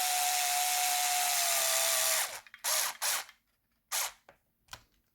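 A power drill drives bolts to fasten the LED light cap on a Traxxas Maxx RC truck: one sustained whirring run of about two seconds, then several short, sharp bursts as the screws are snugged down, close and loud with no talking.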